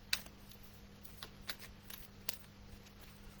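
Oracle cards being shuffled in a quiet room, soft scattered riffles and taps with a few sharper snaps, faint and close over a low steady hum.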